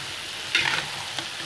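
Salted fish with salt, seasoning, sugar and mushroom stock is stirred and turned in a frying pan. A low, steady sizzle runs under two brief scraping strokes of the utensil, close by, with no voices.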